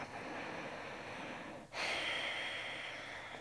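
Slow, steady breathing through a closed mouth, a soft hushing airflow like fogging glass, with a brief pause before a stronger, louder exhale; faint and close, with no talking.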